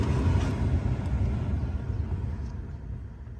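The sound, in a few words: car climate control fan blowing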